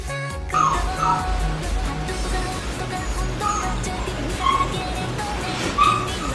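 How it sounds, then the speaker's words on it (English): A dog whimpers and yips in high, plaintive cries, repeated on and off over a constant low background. "my dog is crying right now"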